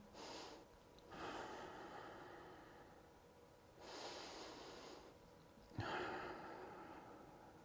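A person takes slow, deep relaxation breaths, three long airy inhales and exhales spaced a few seconds apart, close to the microphone and quiet, with no talking.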